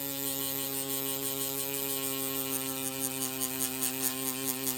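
A rotary tattoo machine runs at a constant speed, giving a steady, even electric hum with a faint buzz, close up and alone, with no voices.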